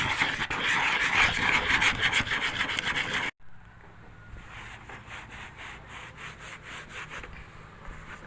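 Steady rhythmic rubbing strokes by hand on a surface, loud and dense at first, then after a brief break continuing more softly with regular back-and-forth scrapes.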